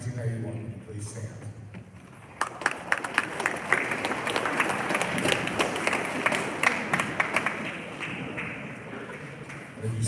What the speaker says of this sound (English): it's right that we can't hold our applause